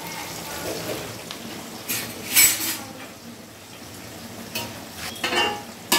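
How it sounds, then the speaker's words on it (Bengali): Saag greens fry in a pan with a soft, steady sizzle, broken by scraping stirs and sharp clinks of a utensil against the pan, heard up close. "এখানে শাক ভাজা হচ্ছে বাপির জন্য"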